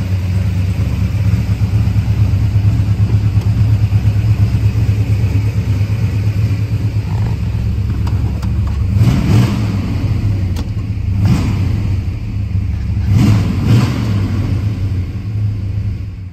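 A 1966 Dodge Charger's 426 Hemi V8 idles with a deep, steady rumble, then revs hard in a few short bursts near the end.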